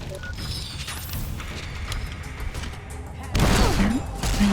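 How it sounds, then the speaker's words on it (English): Grenade blasts and gunfire in a video game, heard as a rumbling stretch of distant fusillade and booms followed by a louder, harsher burst near the end, with game sounds layered over it. "Who's throwing grenades?"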